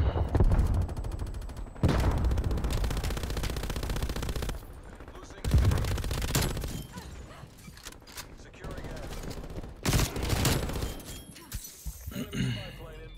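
MG 82 machine gun in Call of Duty: Cold War, bursts of heavy automatic fire broken by short pauses, loud and near, with a voice talking over parts of it.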